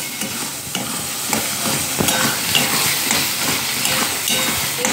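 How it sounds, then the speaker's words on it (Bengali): Spinach is stirred and fried over high heat with a continuous close hiss of sizzling, overlaid by repeated scraping strokes of a spatula against the pan at a fairly regular rhythm. "বড় আঁচে নেড়েই যেতে হবে।"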